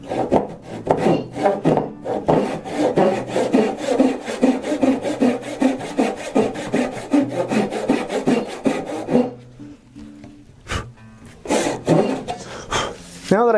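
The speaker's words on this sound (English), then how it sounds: "until the cut on my side gets down close to that marking gauge line." Hand saw cutting dado grooves into a wooden board, a rapid, steady back-and-forth rasping rhythm of close strokes that stops partway, followed by a few scattered knocks and scrapes.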